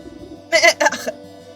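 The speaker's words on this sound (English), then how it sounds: "The goat coughs up a disgusting hairball, even." A short, wet retching cough in a few bursts from a video-game goat coughing up a hairball, close and alone over a faint low hum.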